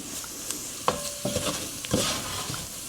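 Flour cooking in butter in a pan for a cheesy kielbasa potato soup, stirred with a few scraping strokes over a faint sizzle, no talking.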